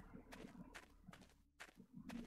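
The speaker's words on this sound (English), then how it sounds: "I can hear footsteps." Soft footsteps in Ancient Warfare 3, a handful of light, irregular steps at moderate distance over a low background rumble.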